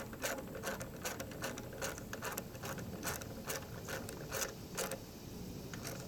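A bolt being tightened on a Briggs & Stratton 500E series lawn mower carburetor, heard as a steady stream of close mechanical ratcheting clicks over constant workshop noise.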